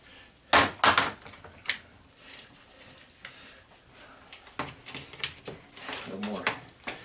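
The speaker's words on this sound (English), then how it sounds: "We have the side cutters again. Get everything cut off the switch." Side cutters snipping wires off the switch of an electric fan being scrapped for copper: a few sharp, close snaps early on, then scattered lighter clicks and handling noises, with a voice talking through much of it.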